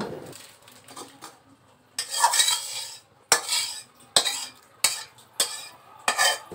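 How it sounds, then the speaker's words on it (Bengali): Spatula stirring spices into rice for chicken khichuri with fried chicken, potato and lentils in a pot: rhythmic bursts of metal scraping and clattering against the pot, roughly once a second, close and clear. "খুন্তির সাহায্যে আমি সুন্দরভাবে সব মশলা ভাতের ভিতরে দিয়ে দেব ঘুটে"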